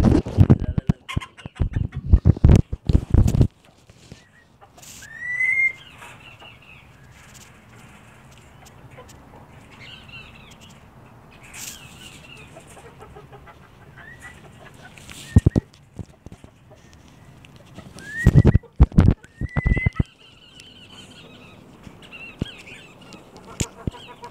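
Chickens and a rooster at a small ranch during morning feeding, scattered short clucks and calls at moderate distance, with bursts of louder clattering and scratching noises near the start and again later.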